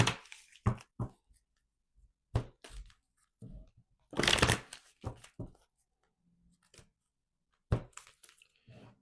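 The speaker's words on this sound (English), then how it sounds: "we're going to take out the wisdom of oracle cards. I'm just shuffling." Loose, papery oracle cards riffle and slap together in several short bursts, with a longer rustling shuffle in the middle and quiet gaps between.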